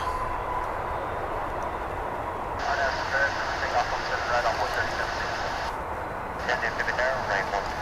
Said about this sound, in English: We've got our MD-11 pulling out.